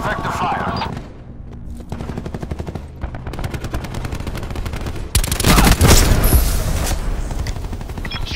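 Machine gun fire in a Call of Duty game, long bursts of rapid shots rattling close and loud, with brief gaps between bursts and a heavier volley near the end, mixed with in-game radio voice lines.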